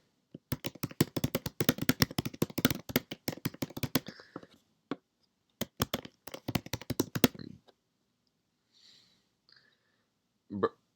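Keyboard typing, bursts of quick, close clicking keystrokes coming and going in irregular runs with quiet pauses between.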